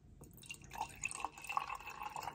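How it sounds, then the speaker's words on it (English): Hydrogen-infused water from a gas generator pours into a glass in soft splashes and drips, faint and close, with no talking. "now we're just gonna pour the water in here"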